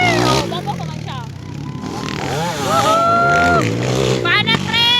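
Motocross motorcycles race in a final heat in Kibawe, engines whining and shifting pitch as they rev past, heard under excited commentary and crowd noise.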